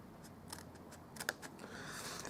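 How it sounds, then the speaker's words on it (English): Scissors cutting cardstock along a score line while assembling a honeycomb Easter hamburger box, giving a few quiet snips and slides close by with no talking. "Cut along that score line."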